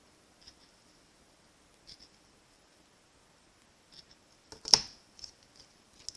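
Scissors cutting through paper cardstock for a handmade penguin card, a few faint, sparse snips followed by one sharper, louder cut near the end, close up and with no talking.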